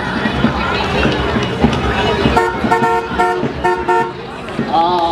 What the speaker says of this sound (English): Talk about a vintage car.